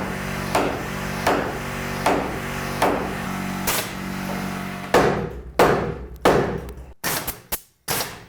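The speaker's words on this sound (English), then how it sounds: "And I can grab my hammer, nail it over." A hammer drives a nail into a wood framing board at a door rough opening, with about a dozen loud, sharp strikes. They come at a steady pace at first, then quicken into closer, harder blows.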